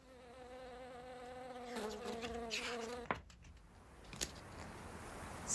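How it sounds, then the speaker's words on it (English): Bees buzz as a sound effect in a read-aloud children's story, a droning hum that wavers for a few seconds, then cuts off with a couple of sharp clicks and a fainter buzz near the end. "One sniffs some honey and goes looking for bees."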